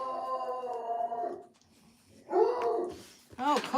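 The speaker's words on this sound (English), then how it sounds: "I swear, she doesn't bark all the time, but always seems like it when I'm on camera." A pet dog makes whining, howl-like vocal sounds in two bursts separated by a brief quiet gap, fairly close and moderately loud, with no talk over it.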